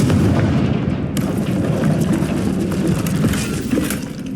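The Confringo explosion spell in Hogwarts Legacy detonates with a loud rumbling boom that stays close and dense and fades slowly over several seconds, with no talking over it.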